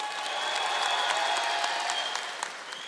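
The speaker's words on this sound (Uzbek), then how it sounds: "Birinchi raqamli ishtirokchiga qarsakinglar." An audience claps for contestant number one at a stage show, a dense, steady burst of applause that swells and holds for a few seconds.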